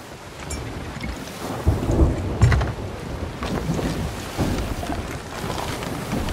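A stormy sea in Sea of Thieves, with rain hissing over a boat, low rumbling thunder swelling near the middle and churning water throughout, a steady loud ambience with no talking.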